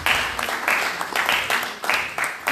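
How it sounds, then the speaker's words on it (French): A church congregation applauds an honoured woman at a ceremony, loud rhythmic clapping in repeated bursts that swell and dip in a steady beat close by. "Nous applaudissons pour Maman Sylvie"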